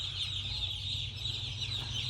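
Baby chickens fill a large poultry house with a dense, continuous chorus of high peeping over a low mechanical hum, steady throughout and heard from within the flock.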